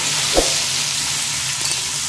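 Steady, close sizzling of mixed vegetables and bottle gourd greens sautéing in hot oil with salt and turmeric, with one soft clink of a utensil early on.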